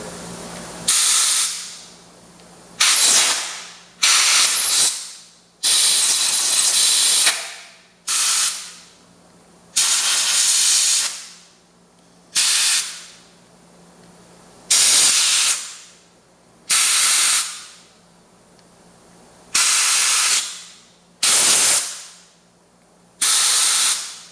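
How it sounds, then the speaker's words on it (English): Short repeated blasts of compressed air from an air compressor nozzle blowing debris out of the cylinders of a 1968 112 engine with a blown head gasket, loud hissing bursts about a dozen times with brief gaps. "We're gonna take the air compressor quick and get whatever may have fell into these out"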